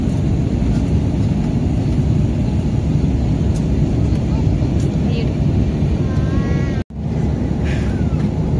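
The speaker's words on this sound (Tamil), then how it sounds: "கிளம்பிடுச்சுல தேஷ்கா." Steady, loud broadband roar of an airliner's engines heard from inside the cabin during takeoff on a flight to Coimbatore, continuous throughout with a brief dropout near the end and faint tonal whines over it.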